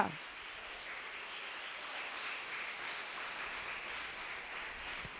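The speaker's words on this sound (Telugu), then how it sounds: "let us clap for our parents and grand parents" An audience claps for parents and grandparents at a Bala Vikas gathering, a dense, steady wash of many hands that carries on evenly for several seconds.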